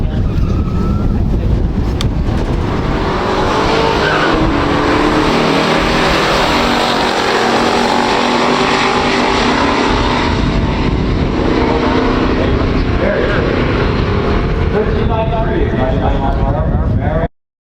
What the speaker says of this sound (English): Let's see how they do on the drag strip.